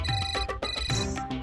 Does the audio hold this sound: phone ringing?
yes